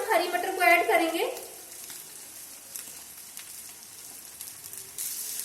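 Potatoes frying in a pan for samosa filling, a soft continuous sizzle running under a brief spoken voice at the start, then alone with faint stirring clicks.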